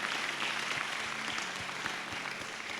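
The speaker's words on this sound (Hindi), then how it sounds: "ताली बजा के प्रभु को धन्यवाद दें।" A church congregation at a fasting prayer service claps steadily together in thanks to God, a dense, loud, sustained applause with a regular beat running underneath.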